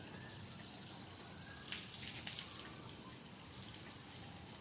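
Water runs steadily from an opened household tap during a check of a water pump problem, a continuous broadband hiss that swells briefly louder partway through.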